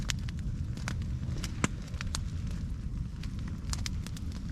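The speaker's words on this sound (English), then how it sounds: "Fire's going good" A campfire burns at night beside a cold-weather survival shelter, giving soft scattered crackles and occasional sharp pops over a low steady rumble, quiet and close with no voices.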